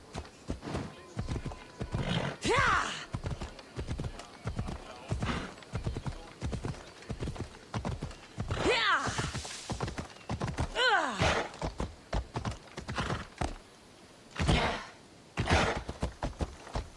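Horses clip-clop in a steady hoof rhythm near a stable, with a few whinnies and neighs rising over the hooves in a Greek-legend video game; game speech is also present.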